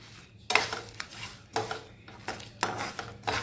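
Peanuts and dried coconut dry-roast in a pan, with a spatula scraping and rattling them across the metal in repeated bursts, close and distinct.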